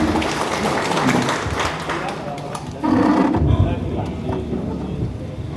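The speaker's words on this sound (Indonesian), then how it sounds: "Aplaus, tepuk tangan." Audience at a mosque and prayer-room management workshop claps in a scattered, moderate round, with some voices and room noise mixed in.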